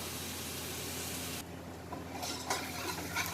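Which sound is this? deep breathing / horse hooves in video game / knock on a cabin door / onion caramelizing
onion caramelizing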